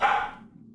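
A small dog indoors in a living room lets out a single short bark or yip that fades quickly, slightly distant, with no talking.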